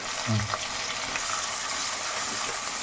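Steady, dense sizzling of crushed spices frying in hot oil after mustard and fenugreek seeds, with a faint stirring scrape near the start.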